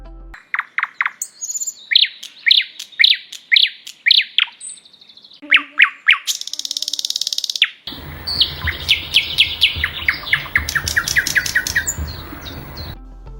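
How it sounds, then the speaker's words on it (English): A thrush nightingale sings a series of loud, rich phrases of repeated whistles, clicks and rattling trills, close and clear, with a brief pause partway through before the song continues over faint background noise. "Thrush nightingale."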